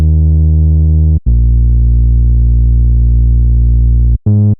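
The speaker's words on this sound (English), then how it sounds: "when we come into the chorus, the sub is actually going up an octave." A sub bass synth raised one octave for a chorus: a loud, pure, sustained low tone holding for about three seconds between short breaks, heard alone.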